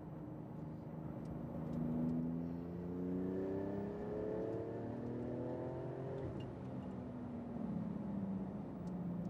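A Porsche 911 GT2 RS sports car drives past with rising and falling engine tones, several overlapping upshifting sweeps heard at moderate distance and fairly faint.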